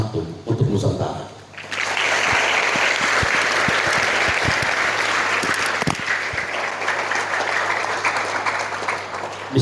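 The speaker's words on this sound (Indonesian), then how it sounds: "berikan tepuk tangan antum untuk Nusantara" An audience at a youth motivational seminar bursts into loud, continuous applause after a short spoken lead-in, the dense clapping holding steady for about eight seconds.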